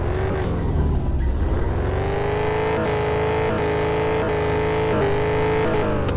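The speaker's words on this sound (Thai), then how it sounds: "เครื่องยนต์สตาร์ท" A car engine in the Car For Sale Simulator video game starts and revs, a loud close engine note rising and falling through several throttle blips with no talking.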